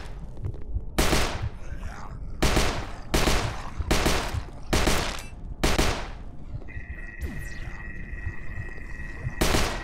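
Rapid bursts of gunfire from a zombie-shooting VR game, HordeZ, arrive as repeated loud volleys roughly every second, followed by a sustained electronic tone and one final burst.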